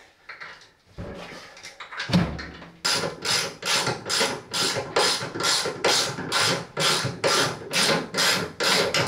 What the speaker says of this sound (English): Inverter screwed to the wall.